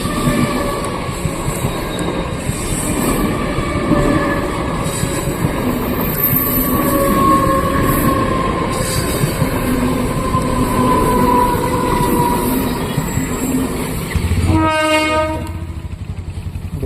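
A train rolls past a level crossing, with steady loud wheel and carriage rumble throughout and a long, tonal horn blast near the end as it clears.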